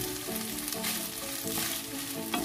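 Pasta with broccoli and sliced smoked pork belly sizzles and fries in a pan while being stirred, a continuous crackling hiss with scraping stirring strokes, close and steady.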